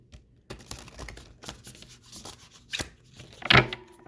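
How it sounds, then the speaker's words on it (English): Tarot cards being shuffled by hand, soft rubbing and flicking sounds in irregular bursts, ending with a louder riffle close by. "Alright, one more shuffle here."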